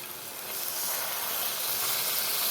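Rohu fish curry with tomato bubbling in a pan after liquid gravy is poured in, a steady broadband sizzle and hiss that swells within the first half second and then holds loud and even, with no talking.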